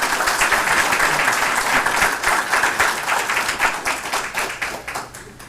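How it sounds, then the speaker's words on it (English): An audience at an event on county election security applauds loudly with many hands at once, the clapping sustained and then thinning out toward the end. "Could we get one more round of applause, please"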